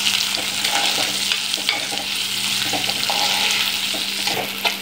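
Onions and shallots sauté in a pan for chicken chaps, a steady close sizzle with scattered scrapes and clicks of stirring running throughout, no talk.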